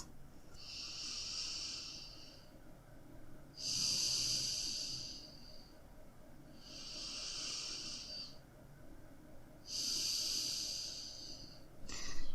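Slow, deep breaths during a yoga session for hips and spine, four long airy inhale-exhale swells spaced a few seconds apart. They are close and soft, with no talk.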